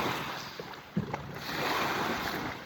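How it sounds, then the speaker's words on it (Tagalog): Strong sea waves wash onto a beach in a continuous broadband roar, with wind buffeting the microphone and a brief splash partway through, no voices present. "Ang lakas ng alon, Dakelki alon."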